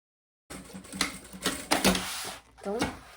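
A sewing machine topstitching along the zipper of a fabric pencil case, with several short, close bursts of rapid mechanical stitching separated by brief pauses, starting after a moment of silence.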